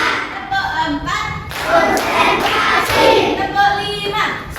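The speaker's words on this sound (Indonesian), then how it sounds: "Tepuk 1, tepuk 2, tepuk 3" Classroom students clapping together in a rhythmic ice-breaker clap game, bursts of hand claps and thumps close by, mixed with voices chanting along.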